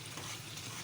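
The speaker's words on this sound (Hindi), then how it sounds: "ये भुन जाए चटनी" Hyderabadi tomato chutney fries in a pan while being stirred, giving a soft, steady sizzle with light scraping, quiet and close, no talking.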